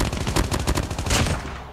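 Rapid gunfire in the mobile shooter Call of Duty Mobile, a burst of a dozen or so close, loud shots in quick rhythmic succession, tapering off at the end.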